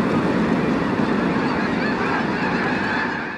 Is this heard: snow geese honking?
yes